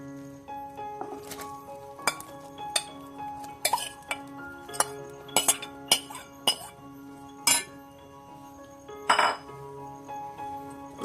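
Chopped dates tipped into bubbling date pickle masala in a pan and stirred in, giving repeated close metallic clinks and scrapes of a spoon against the pan, irregular and fairly quiet, with no talk.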